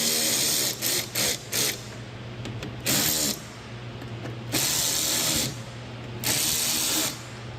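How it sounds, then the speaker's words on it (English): A power tool tightens splash guard bolts on a 2019+ Dodge Ram 1500, firing in short repeated bursts of harsh whirring between pauses over a steady low background hum. "And then we're gonna go through here and just tighten up the bolts."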